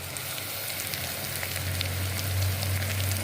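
Mint and coriander leaves sauté in a seeraga samba mutton biryani pot, Dindigul thalappakatti style, giving a steady, close, even sizzle over a low hum, with no talking.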